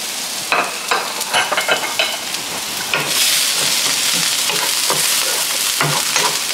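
Garlic frying fast in a hot pan, with loud steady sizzling and crackling broken by scraping stirring strokes, all up close with no talking.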